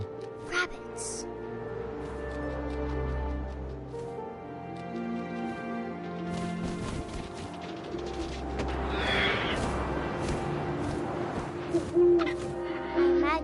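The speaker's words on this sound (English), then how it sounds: "And suddenly, I was an owl." An owl hoots in the video game What Remains of Edith Finch, low sustained calls over wind and a layered ambient game soundscape, moderately loud and steady across the scene.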